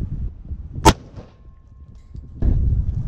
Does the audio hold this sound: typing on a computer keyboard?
no